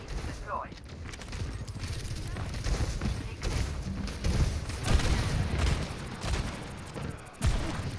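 Reaper's shotguns boom in rapid bursts during an Overwatch match, loud, thumping gunfire layered with other combat effects and continuous battle noise throughout.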